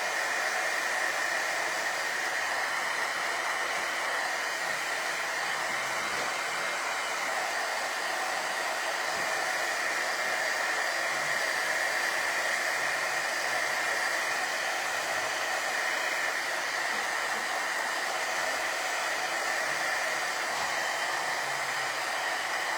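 A hair dryer blows on painted wood biscuits being made into daisies, a loud, steady whooshing whine that runs unbroken from start to finish.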